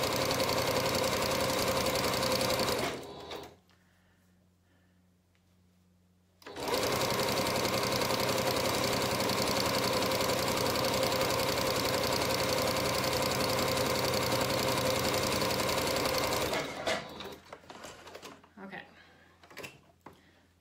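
A home sewing machine runs in a long steady whir while stitching a garment hem, stopping for a few seconds mid-run, then running again before trailing off into handling clatter, with speech audible at times.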